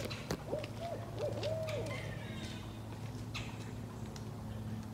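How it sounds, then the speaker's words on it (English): Two owls hoot back and forth in Percy Warner Park, Nashville, a few short, wavering, barking calls close together near the start, then quieter outdoor ambience with faint distant rustles. "Two owls are talking."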